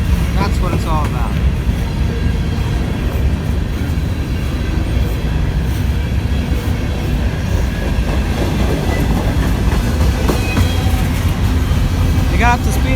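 A Norfolk Southern freight train pulled by three locomotives speeds past Flint station, making a loud, continuous close rumble and clatter of wheels on rails, with occasional faint metallic squeals.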